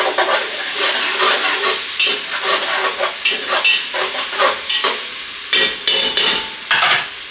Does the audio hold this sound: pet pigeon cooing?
no